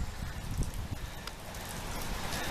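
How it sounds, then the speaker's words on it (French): Steady rain pours down on a gloomy fishing day, a dense, continuous hiss with scattered drops tapping nearby, no voices. "Beaucoup de pluie"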